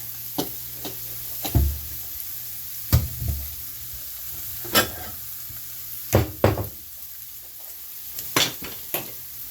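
An egg frying in a pan for a ground beef bowl gives a steady low sizzle, broken by clattering utensil scrapes and taps against the pan at irregular intervals.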